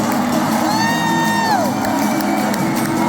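A large audience at a tour concert in Philadelphia cheers loudly and steadily, with a high whistle or whoop rising above the roar.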